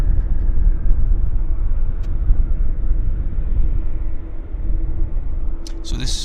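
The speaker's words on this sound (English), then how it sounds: "So this Air Canada Dreamliner just arrived from Seoul." An Air Canada Boeing Dreamliner arriving at Vancouver Airport makes a steady, loud low-pitched jet rumble, with a brief sharp rattle near the end.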